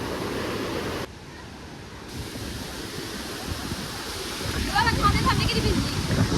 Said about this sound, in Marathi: कसला दिसतोय बघा धबधबा आहे